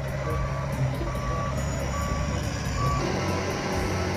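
A reversing alarm on a sand truck beeps steadily in evenly spaced tones, about four beeps, over a constant loud rumble of the truck's engine.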